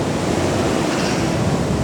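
Surf rolls onto Kapehetang beach, a loud, dense wash of waves blended with wind rumble on the microphone, steady throughout the short stretch.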